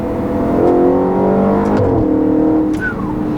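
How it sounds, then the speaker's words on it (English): A 2013 Audi RS5 engine revs hard and then drops pitch through a quick upshift before climbing again, loud and close, with no voices. "Yeah, that was an amazing upshift right there."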